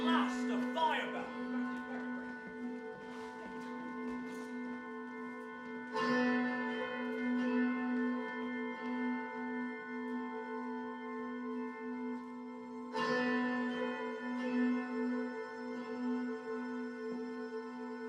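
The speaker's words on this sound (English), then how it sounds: "At last, a fire bell." A fire bell tolls in a few heavy strikes spaced several seconds apart, each ringing on with a long, humming decay beneath steady background voices.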